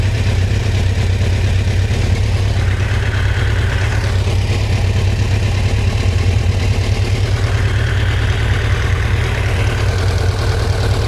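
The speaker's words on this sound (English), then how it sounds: "Raise our idle up a little more." An inexpensive motorcycle engine runs at a raised idle, a steady, loud, unbroken rumble heard up close with no talking.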